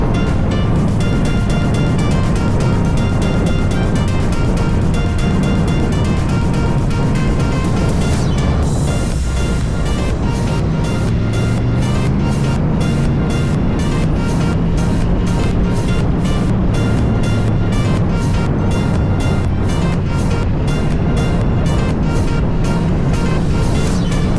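A car cruising down an empty road fills the scene with a loud, steady roar of road and wind noise that stays unbroken throughout, with no talking.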